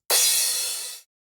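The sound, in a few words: reverse cymbal sample from 909 drum machine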